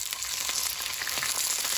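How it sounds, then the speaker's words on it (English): Wontons sizzle steadily in hot oil in a pan, with a dense, close frying crackle that flares in bursts as water is added for steam, no talk over it. "We're frying them for a couple minutes in some oil."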